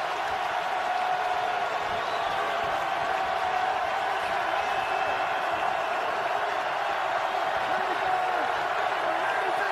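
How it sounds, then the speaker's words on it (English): A packed stadium crowd at an NFL game between the Cowboys and Jaguars roars in a sustained, loud wash of cheering and murmur, steady throughout without breaks. "Crowd's into it."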